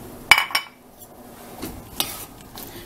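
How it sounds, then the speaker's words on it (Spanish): A spoon scrapes and clinks against a pot while picadillo with carrots is stirred, giving a few sharp metallic knocks near the start and again later over a quiet background, with no talk. "Revuelvo"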